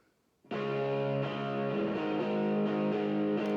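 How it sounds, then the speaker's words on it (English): Heavy distorted rhythm electric guitar recorded at home, a thick sustained chord starting after a brief quiet moment and ringing steadily with a few chord changes. "that's the rhythm one"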